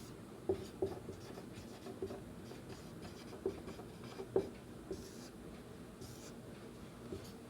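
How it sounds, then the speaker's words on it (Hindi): A pen scratches out notes during a lesson, with faint, irregular taps and strokes in a quiet room and no talking. "मैं लिख देता हूँ"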